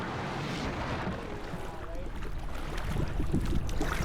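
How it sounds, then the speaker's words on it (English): Strong gusting wind at Waterton Lake, a loud continuous roar and buffeting rumble against the microphone, with water movement underneath. "take on those Waterton winds, which quite regularly reach upwards of 80 kilometers an hour"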